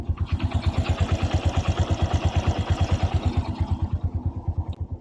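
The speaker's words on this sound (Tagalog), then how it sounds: "Balikbaran nyo na ang tunog ng kanyang makina guys." A Kawasaki Bajaj CT 100 motorcycle engine runs steadily nearby, its loud, rapid, even exhaust pulses thumping at idle for the whole stretch with no voices over it.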